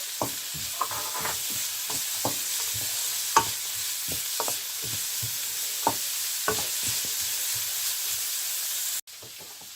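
Vegetables sautéing and being stirred in a pan while making paneer pilau: a constant bright sizzle runs under repeated sharp scrapes and clinks from the stirring utensil, and the sound cuts off abruptly near the end.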